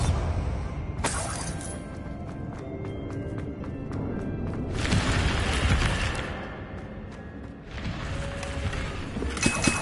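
Bombarda blasting spell in a video game, a loud shattering burst of breaking debris and cracking that swells midway, surrounded by quieter clattering and magical effects, with a voice heard faintly in the mix.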